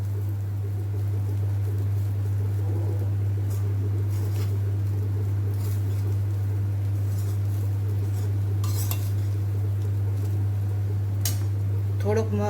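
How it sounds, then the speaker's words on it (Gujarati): A spoon stirs paneer makhni rice in a pan, with soft scrapes and occasional metallic clinks over a steady low electrical hum, and a few louder knocks near the end. "સરખું મિક્સ કરી લઈશું બધું"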